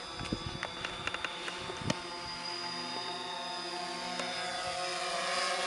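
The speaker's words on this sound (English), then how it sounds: "with the drone always facing in the same direction" A camera drone hums with a steady propeller whine as it flies and manoeuvres left, right and backward, holding a fairly even level with a few brief clicks early on.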